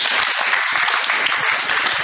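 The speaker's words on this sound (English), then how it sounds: "A clap for her, please." Dense applause from an audience at a Mombasa quiz night, sustained and steady throughout without pauses, filling the room at close range with no voices over it.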